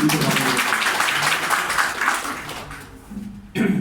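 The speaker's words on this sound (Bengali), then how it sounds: "সেই রাইট ফর পিপুলের জন্য আমরা একটা করতালি দেব" An audience at a Bangladesh village police welfare association gathering claps for Right for People, a broad patter that fades toward the end before a voice cuts back in.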